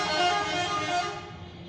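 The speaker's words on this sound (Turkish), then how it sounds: "Araba kornaları sürekli çalıyor" Car horns blare continuously over a dense wash of traffic noise, loud and close, gradually thinning toward the end.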